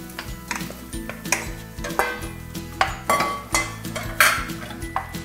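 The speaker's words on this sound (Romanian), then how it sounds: "acum peste ceapă voi pune vinetele." Eggplant tipped into a pan of fried onions, with clanks and scrapes of utensils against the pan, clinking, and a soft sizzle underneath, close and irregular.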